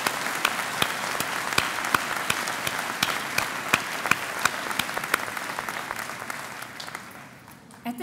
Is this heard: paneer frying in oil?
no